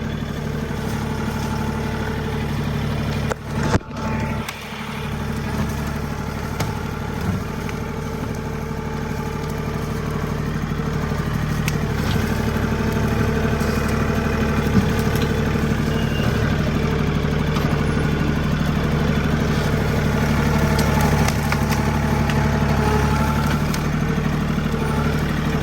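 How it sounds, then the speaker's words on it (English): A tractor engine runs steadily throughout, a loud, low rumbling drone that barely changes, with a brief knock near the start. "This is the fun part of using a tractor."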